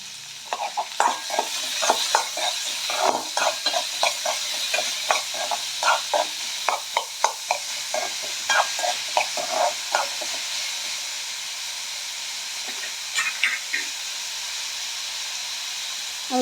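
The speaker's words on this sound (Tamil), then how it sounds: "வெங்காயம் சீக்கிரமாக வதங்குறதுக்காக அதில் நம்ம கொஞ்சம் கல் உப்பு சேர்த்துக்கிறோம்." Onions with rock salt sauté in a pan, making a constant hissing sizzle. A ladle scrapes and taps in a busy rhythm for about ten seconds, then the stirring turns sparse while the frying hiss continues.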